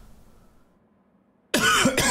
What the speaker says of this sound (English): Sorry about my cough as well. My cough will not go away.